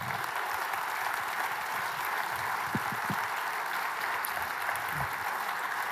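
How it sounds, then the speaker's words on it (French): Conference audience at the Agile Grenoble keynote applauding the speaker, a steady, even wash of clapping from a large crowd lasting the whole stretch, with a few sharper nearby claps. "Je vous demande un tonnerre d'applaudissements pour monsieur Bruno Sbille."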